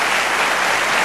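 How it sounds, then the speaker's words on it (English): Studio audience at the Late Show with David Letterman breaks into loud, dense, sustained applause, a steady wash of many hands clapping with no voices over it. "they deserve your applause"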